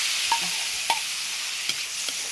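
Seafood meatballs stir-frying in a hot pan for a black-pepper seafood dish, a steady broad sizzle with a few sharp scrape or clink taps from the spatula, close and fairly loud, no voices.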